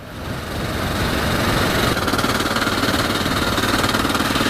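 An old Honda NX650 single-cylinder motorcycle rides along a road in Spain, its engine thumping in a steady, loud, close drone that swells slightly at the start and then holds even, with no talking.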